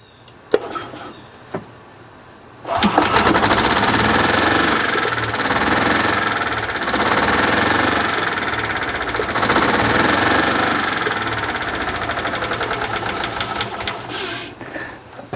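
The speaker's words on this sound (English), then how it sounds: "hopefully it should fire up, not only crank, but actually run" A 1999 Club Car golf cart's small gasoline engine cranks briefly, then catches and settles into a steady, loud, close running drone with a buzzy, rapid mechanical rhythm until it shuts off near the end.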